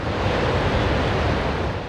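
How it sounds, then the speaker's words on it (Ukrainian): Water, swollen by Carpathian meltwater, roars through a hydroelectric dam spillway at about 200 cubic metres per second, a dense, steady, loud rushing with no pauses or voices. "200 кубів води скидають за секунду."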